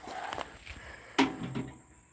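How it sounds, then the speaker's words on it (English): A door pushed shut at a cat sanctuary, a single sharp thump with a short rattle after quiet shuffling movement, fairly close and alone without talk. "close that door a little bit"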